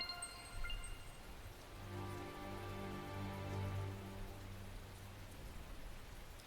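Rain falls steadily in Tales of Zestiria, a faint, even patter of drops with a low background hum.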